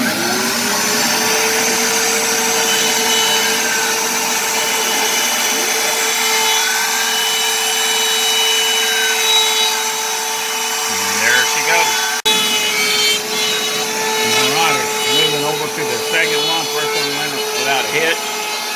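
A CNC router cuts a wooden ring, its spindle whining at a steady pitch with loud, continuous grinding and rasping that rises and shifts as the bit works through the wood.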